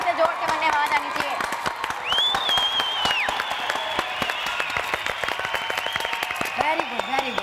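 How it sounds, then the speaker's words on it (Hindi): A crowd applauds loudly and steadily throughout, with a dense wash of clapping, some cheering, and a brief whistle-like tone partway through. "तालियां बजाओ भी इसके लिए, क्लैपिंग कर लो खूब सारी, जोर से बनने आवाज आनी चाहिए।"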